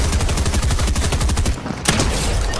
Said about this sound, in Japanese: 向こうで銃声が。